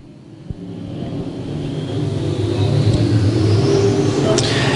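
Hobby Stock race cars at the USRA nationals roar back up to speed on a restart, a rising engine drone that builds and grows louder over the seconds, with crowd and track ambience around it.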